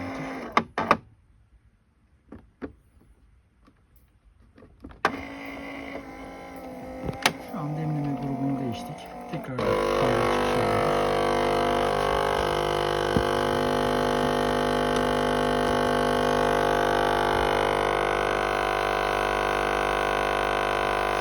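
A Melitta or Nivona coffee machine with a brewing-group fault clicks and whirs through a few mechanical steps, then settles into a loud, steady pump hum as water runs from the coffee outlet.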